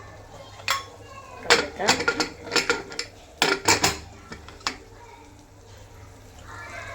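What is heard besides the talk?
lid being put on the biryani pot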